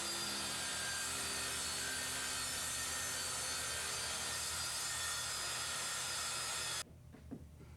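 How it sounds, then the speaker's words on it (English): A jigsaw cuts through wooden subfloor in a studio build, a loud, continuous buzzing rasp that stops abruptly near the end, followed by a few faint knocks. "We made the cut in the floor with a circular saw to start, and then finished it with a jigsaw."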